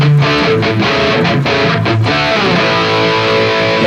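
An overdriven electric guitar through a Mooer GE200 amp modeler with power amp tube simulation plays a short riff with chugging chords, then rings out in a sustained crunchy tone, loud and close.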